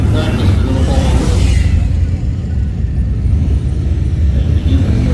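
A motorcycle engine at the Sturgis 2022 rally rumbles steadily at low revs during slow hard-lock turns, loud and close, with muffled talk over it.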